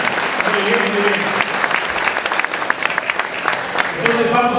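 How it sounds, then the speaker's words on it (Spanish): A seminar audience gives loud, sustained applause after a National Police preventive show, the clapping crisp and crowded before it thins toward the end as a voice comes back in. "Fuertes los aplausos para el show preventivo de la Policía Nacional."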